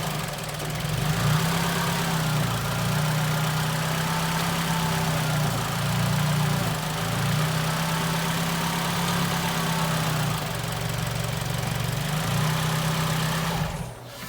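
A car engine idling steadily after its engine mounts were replaced, a constant close hum with a smooth low drone and no talk over it.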